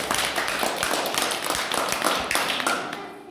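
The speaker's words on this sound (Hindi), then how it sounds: "एक बार तालियां बजाओ पावनी के लिए।" A class of children claps for a classmate, a dense run of quick, moderately loud hand claps lasting a few seconds, with scattered young voices mixed in.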